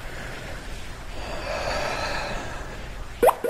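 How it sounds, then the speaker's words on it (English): A slow, drawn-out exhale in a science fiction audio drama, a soft breathy rush swelling and fading over a few seconds, close and quiet, ending with a couple of short sharper breaths. "Breathe out."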